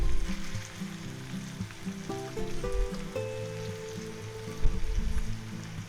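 Chunks of cooked roast beef warming in a pan, a soft crackling sizzle heard beneath background music, steady with no talk.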